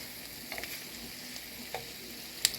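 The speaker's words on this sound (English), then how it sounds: "It's cooking up really, really good so far." Honey lime chicken fries in a pan with a quiet, steady sizzle, broken by a few soft clicks of stirring and one sharp tap near the end.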